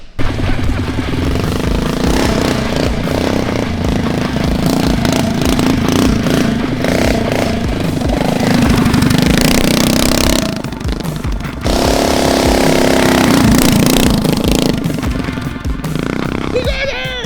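Mini trike engine ridden hard on a motocross track, a loud, steady buzzing drone that rises and falls with throttle, briefly dropping off twice before revving back up, with rattling clatter throughout.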